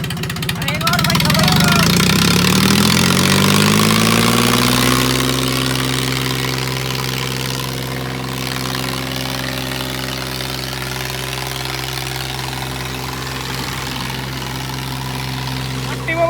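A tractor engine revs up and then settles into a steady, loud idle with a deep rumble. People talk and shout over it.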